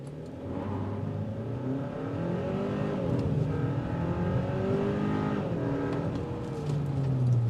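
A 2026 Kia K5 GT accelerates hard from a standstill to 60, its engine note climbing steadily through the gears with rising and falling rev sweeps, heard from inside the cabin at a constant moderate loudness.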